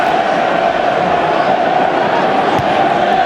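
A football crowd roars steadily in the stands at an Everton vs Reading league match, a loud continuous wash of cheering and chanting that holds without a break.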